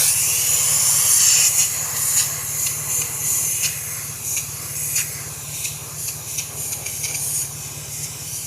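Spray paint hissing steadily onto a car wheel during a repair of an earlier DIY paint job, a loud close continuous spray with short pulses as the nozzle is pressed and released.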